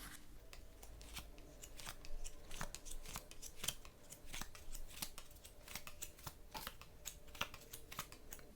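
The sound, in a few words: tarot cards being shuffled and dealt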